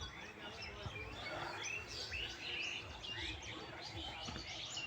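Birds call in a village setting with chickens nearby, faint scattered chirps and tweets over soft background noise, with a little distant talk.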